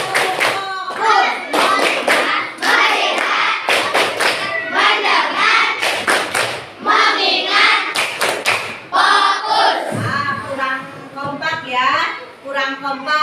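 A group, likely a class, performing the rhythmic 'tepuk fokus' clapping chant: bursts of sharp, patterned hand claps in quick clusters alternating with voices chanting along, loud and close, with a thump partway through.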